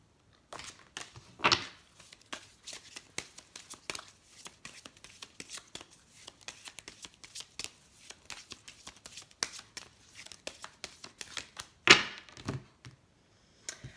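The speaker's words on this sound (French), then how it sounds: "on va demander à l'oracle d'Élise quelques cartes conseils" Oracle cards being shuffled by hand, close, soft irregular riffling and tapping with a few sharper knocks, quiet overall and without speech.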